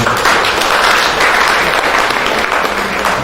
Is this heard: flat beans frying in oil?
no